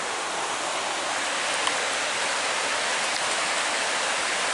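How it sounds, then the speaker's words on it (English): Steady, full rushing of a mountain creek in Lynn Canyon, North Vancouver, water flowing continuously down toward the ocean, close and loud with no voices. "the creek's still going, but comes from the mountain, goes down to the ocean."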